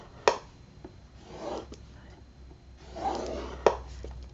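Bone folder scoring paper against a scoreboard at half-inch marks for an album hinge, heard as a few soft scraping strokes and sharp taps, close and quiet, with no talk.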